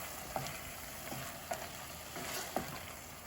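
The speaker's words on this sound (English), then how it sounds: "Give them a stir." Navy beans stirred into minestrone soup in a pot, soft sizzling with three light spoon scrapes at regular intervals, faint and close, no talking.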